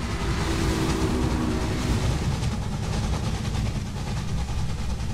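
Passenger steam engine in the Railway Empire game, a steady heavy low rumble with chuffing texture running continuously and loud throughout, with no voices over it.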